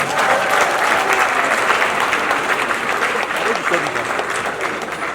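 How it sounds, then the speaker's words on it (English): A large audience at the Felabration 2019 festival event in Nigeria applauds loudly and steadily, with cheering voices mixed into the dense clapping throughout. "You guys should clap for yourselves"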